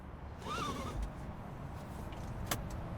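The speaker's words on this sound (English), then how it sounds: "Is a seatbelt sound." A brief metallic click and latch sound of a seatbelt buckling inside a truck in American Truck Simulator, over a steady low engine rumble, with a short sharp click near the end.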